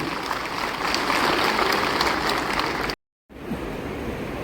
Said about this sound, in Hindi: जोरदार तालियां हो उनके लिए।